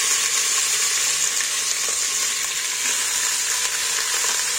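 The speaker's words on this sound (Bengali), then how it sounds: "এইবার আমি মশলা মাখানা মাংসটা তুলে দিচ্ছি তেলের মধ্যে" Spice-marinated chicken frying in hot oil, a loud, dense, continuous sizzle with no talking.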